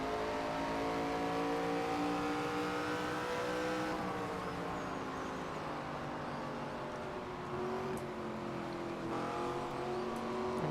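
NASCAR 25 stock car engine in a video game race, a sustained loud roar with rising and shifting harmonic tones as the car holds power down the back straight, steady throughout.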